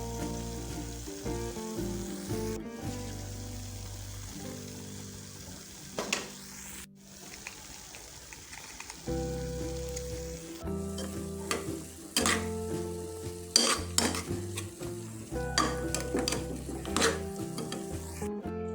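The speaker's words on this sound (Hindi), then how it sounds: "पाँच मिनट अच्छा सा भूनने के बाद अब हम इसमें ड्राई फ्रूट्स मिलाएंगे।" Egg halwa being stirred and roasted in a pan, with steady frying sizzle and scraping strokes under a recurring background music track, no talking.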